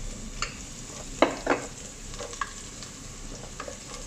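Ginger and garlic drop into hot cooking oil for a tilapia escabeche dish, a steady close sizzle with a few sharp crackles and stirring clinks over the first seconds, then a softer continuous fry.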